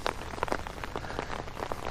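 Rain falling hard at Lake Norman in Mooresville, North Carolina, heard as a soft, steady patter of drops on surfaces with scattered brighter splashes, fairly quiet and close.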